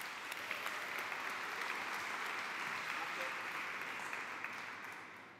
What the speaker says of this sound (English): please welcome Martin with a clap